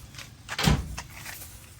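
A door is pulled shut with one muffled thud and a brief scrape, close by, followed by faint room noise.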